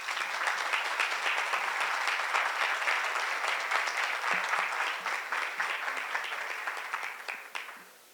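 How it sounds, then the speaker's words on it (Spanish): Warm applause from an audience at a political event honouring women, many hands clapping steadily and densely before trailing off at the end. "Y para Ivonne Viravalle, un fuerte aplauso."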